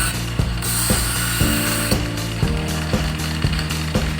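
A knife is sharpened on a grinder, giving a continuous mechanical whir broken by regular clicking strokes roughly every half second, close and fairly loud.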